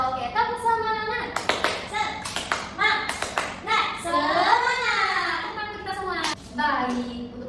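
Children in an Indonesian classroom perform a rhythmic spirit clap, bursts of sharp claps in patterned groups mixed with chanting young voices, fairly close and lively throughout.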